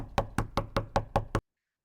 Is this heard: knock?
yes